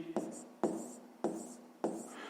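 Chalk or marker scratches out numbers by hand on a board in a math lesson: four short scraping strokes, each sharp at the start and fading, evenly spaced at close range with a faint voice underneath.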